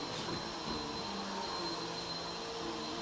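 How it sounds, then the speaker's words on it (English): A shop vac runs steadily while vacuuming moldy carpet, a constant loud whooshing drone with a faint high whine, close and unbroken throughout. "the shop vac's going to get a little noisy, so you won't be able to hear me"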